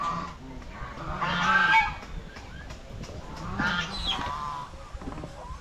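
Farm ducks or geese give several nasal honking calls in two clusters, moderately close against a low, steady outdoor background.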